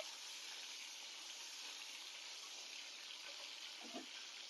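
Steady bubbling and hissing of a masala brinjal curry simmering in a pan, a continuous soft wash of noise with a couple of faint knocks near the end.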